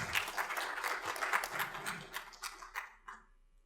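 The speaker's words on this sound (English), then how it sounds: "Can we give them another round of applause?" A faint round of applause from an audience at an internship opening ceremony, scattered claps thinning into a few isolated ones before fading out.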